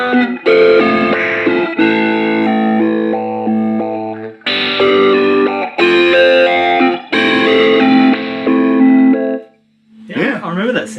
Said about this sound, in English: Step filter.